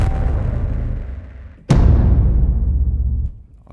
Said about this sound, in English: So the next is distortion loops.